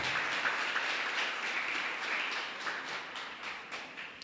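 Steady church congregation applause fills the space, a dense wash of many hands clapping at moderate distance, gradually thinning toward the end.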